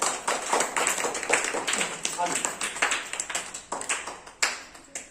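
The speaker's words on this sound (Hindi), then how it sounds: "जोरदार तालियां" Scattered, uneven clapping from an audience at a school parents' session in Khem Pipra, sharp individual claps repeating throughout, with voices in the background.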